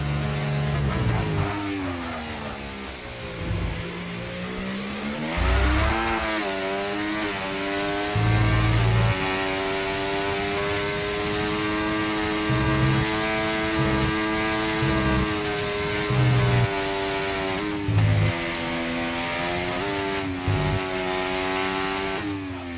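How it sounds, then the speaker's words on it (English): A high-pitched racing engine in a video game, an F1 car lapping Circuit of the Americas, screams continuously, rising and falling in pitch as it shifts gears and slows for corners, loud and close throughout. "Turn up the sound a little bit so you can hear this car go around a lap of COTA."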